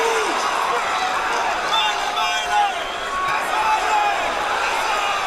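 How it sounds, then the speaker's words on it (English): Excited boxing crowd at a Sergey Kovalev fight in Atlantic City, a dense, steady roar of many voices with a commentator talking over it throughout. "Crowd is very excited here."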